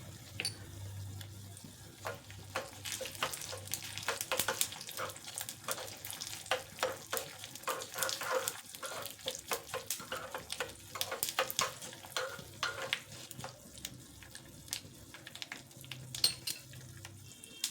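Sesame seeds crackle and sizzle in hot tempering oil with golden-fried dal, a steady fizzing spatter with sharp pops throughout, close and moderately quiet.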